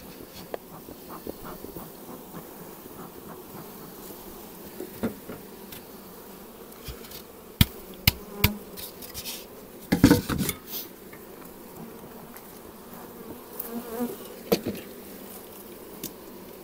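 Bees buzz in a low, steady drone with occasional clinks and taps of handling wooden frames; no talking.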